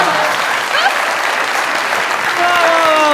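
Audience applause at a comedy show, a dense steady clapping that holds loud and close for the whole stretch, with a few voices faintly audible beneath it.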